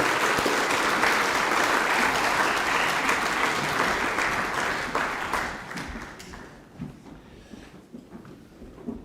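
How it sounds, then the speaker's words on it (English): An audience at a high school co-curricular prizegiving claps in a dense, sustained round of applause that thins out and fades into scattered claps after about six seconds. "Round of applause."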